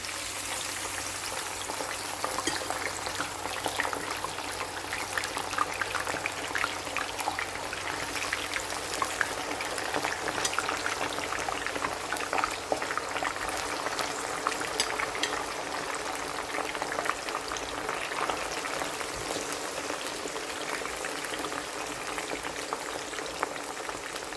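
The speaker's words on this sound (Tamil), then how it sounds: "இதை வந்து எண்ணெய் சூடேறிட்டு நான் வந்து சிப்ஸை போடுறேன்" Potato chips sizzle and crackle vigorously as they deep-fry in hot oil, a dense, steady hiss of popping bubbles throughout with no talking.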